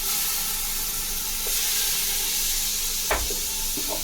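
Ginger and garlic frying together in a pan for village chicken curry, a steady soft sizzle and hiss with a few brief clinks of a utensil near the end, and no talk.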